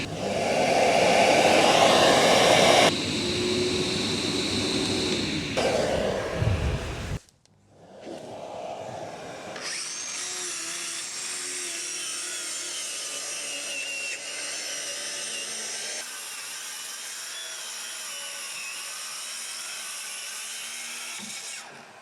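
A workshop vacuum cleaner switched on by remote control, whining steadily and fairly loud for most of the stretch after a brief drop in noise, with no talk over it.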